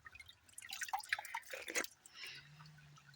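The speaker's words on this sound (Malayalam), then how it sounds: "ഇതാണ് വെള്ളം" Water drips in a small forest stream, with close, clear plinks and splashes clustered in quick irregular bursts over quiet surroundings, followed by a faint low hum.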